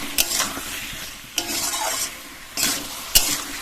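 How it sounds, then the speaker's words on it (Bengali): Potatoes are stirred into a spiced masala in a pan, with bursts of sizzling and scraping stirs every second or so over a low background hiss. "আলুটা দিয়ে 2-3 মিনিট কষিয়ে নেবো মশলার মধ্যে"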